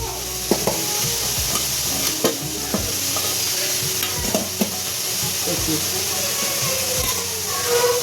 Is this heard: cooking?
yes